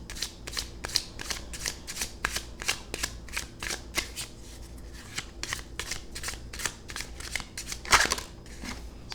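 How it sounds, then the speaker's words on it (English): Rapid riffle shuffles of a deck of oracle cards, a series of quick crisp bursts repeating steadily, close up, with one louder snap near the end. "We'll shuffle 3 times and take the card off the top"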